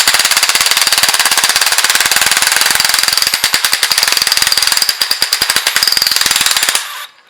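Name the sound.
impact wrench removing injector cup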